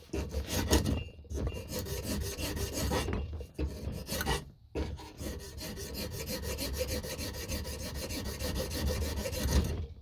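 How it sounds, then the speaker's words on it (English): A wood rasp files a double bit axe handle in fast, steady back-and-forth rasping strokes, close and loud, with two brief pauses early on. "I might just be more careful and just use this rasp"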